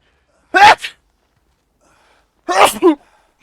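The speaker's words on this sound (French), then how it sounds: "mes éternuements ils sont assez violents" Two loud, violent human sneezes, close and sharp, spaced about two seconds apart with silence between them.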